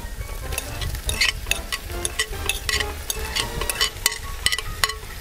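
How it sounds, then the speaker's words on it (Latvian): Boiled, deboned chicken pieces sizzle and fry in a pan while being stirred, with steady crackling and repeated scraping strokes up close and no talking. "Liekam klāt vistas gabaliņus."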